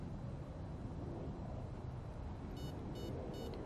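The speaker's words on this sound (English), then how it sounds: "once you hear two beeps, go full throttle." An MMax 8 electronic speed control in an RC car gives short, faint electronic beeps near the end, three quick tones over a constant broadband rushing noise.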